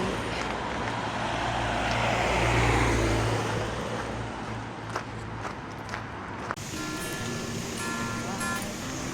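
Jammed traffic on a hot street of around 30 degrees. Car and truck engines hum and idle steadily nearby, with scattered clatters and some voices mixed in.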